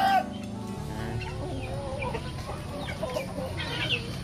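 Backyard chickens that have just been let out of their pen cluck and murmur close by in a steady, busy chorus.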